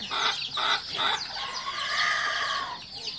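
Chickens and newly hatched chicks, mostly young cockerels, calling close by in a steady chorus of clucks and drawn-out cheeps, fairly loud with no talking.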